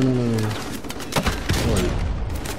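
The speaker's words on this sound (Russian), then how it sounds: "А, кстати, стрельба есть." Gunfire in Call of Duty: Modern Warfare Remastered crackles in sharp bursts of loud shots after a short tonal sound, with a player's voice faintly present under the shooting.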